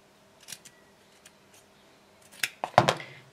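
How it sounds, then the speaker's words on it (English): Scissors trimming bulk from the fabric corners of a small sewing project, a few quiet snips early on and then a closer, louder cluster of sharp cuts near the end, with no talking. "just cut some of that bulk into the corner, cut that away"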